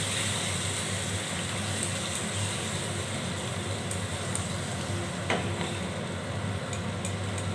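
A cauliflower and potato curry sizzles steadily in a pan after water is poured in, a constant close frying hiss with light stirring scrapes and a brief clink partway through, no talking.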